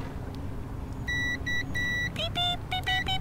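A fuse tester gives a series of short, sharp electronic beeps: several repeated tones in a quick, uneven rhythm, close and clear over low background rumble.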